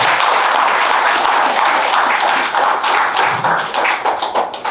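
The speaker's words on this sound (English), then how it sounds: "So we would like to give him a big round of applause." Audience applause at a solo art exhibition opening in a Bengaluru gallery, a dense, loud wash of many clapping hands that keeps going steadily for the whole stretch before starting to thin near the end.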